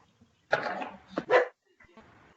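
A dog barks during an online council planning committee meeting, with a burst of loud, close barks followed by a sharp final bark and a fainter trailing sound, and no talk over it.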